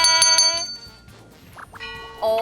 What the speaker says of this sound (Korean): 시작부터 기분 좋게 골든벨이 울렸습니다.